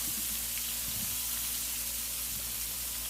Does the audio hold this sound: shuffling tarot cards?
no